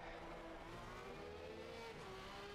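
A Porsche GT3 race car engine in a racing video game revs steadily upward under continuous loud engine roar, a sustained mechanical drone with rising pitch.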